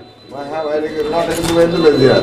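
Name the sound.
Magpie Pouter pigeons cooing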